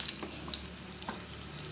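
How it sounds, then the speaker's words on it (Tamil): Cashews and raisins fry in hot ghee for a boondi laddu, a steady close crackle and sizzle with a few brighter pops, heard alone with no voices. "இப்போ ஒரு 50 கிராம் திராட்சை சேர்க்குறேன். அதையும் சேர்த்துட்டு நல்லா வறுத்து எடுத்துக்கலாங்க."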